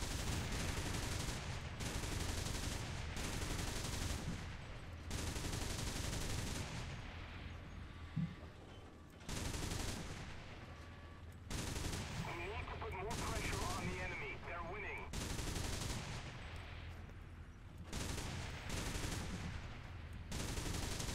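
Shilka anti-aircraft guns firing in War Thunder, loud sustained bursts of rapid cannon fire repeating with short gaps, continuous and close with occasional voices under the gunfire.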